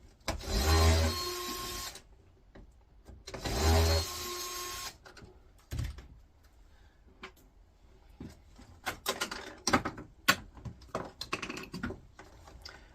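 Screws being driven out of a multifry electric cooker with a power screwdriver, two long whirring bursts followed by scattered clicks and clatter of parts being handled, close and without talk.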